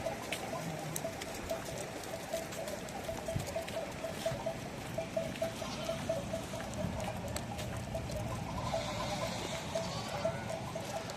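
Lambs and goats bleat repeatedly in snowy weather, a steady run of mid-pitched calls over a constant patter of wet background noise, with no voices.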